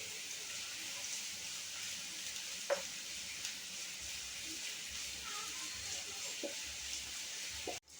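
Finely chopped ginger and garlic fry in a pan for vegetable noodles, giving a soft, steady sizzle with a few faint stirring knocks, quiet and close, with no voice over it.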